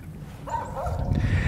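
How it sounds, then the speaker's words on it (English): Dogs barking a short burst of yips, moderately close, over a steady low rumble of background noise. "them dogs, bro."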